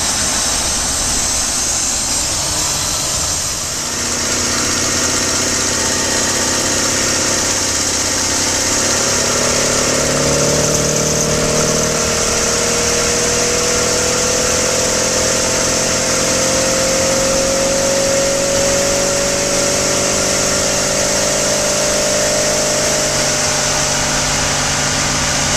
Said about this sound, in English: you can watch your engine actually in operation